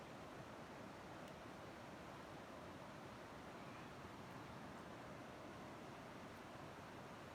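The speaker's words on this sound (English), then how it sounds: "just sit on the rocks and listen to the water" Water washing and lapping against rocks, a steady broadband wash with no distinct breaks, heard alone at a moderate distance with a faint windy hiss.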